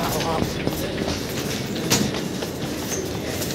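A crowded metro train runs with a loud, steady rumble and rattling wheel noise, close and continuous, with passengers' voices mixed in underneath.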